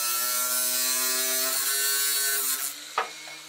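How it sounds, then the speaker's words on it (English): Linear bearings being cut to length with a power tool for a CNC mill build, a steady whining motor drone with harmonic overtones that drops out near the end, followed by a brief clack. "Now I need to cut the linear bearings to the right length."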